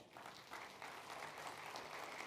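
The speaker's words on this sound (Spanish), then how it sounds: "denle un aplauso al Señor" A church congregation clapping together, a fairly faint, steady patter of many hands that continues without break for a couple of seconds.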